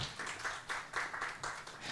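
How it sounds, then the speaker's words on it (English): Applause from a crowd in several bursts, swelling and easing, moderately loud and fairly close. "Another big round of applause to Adut."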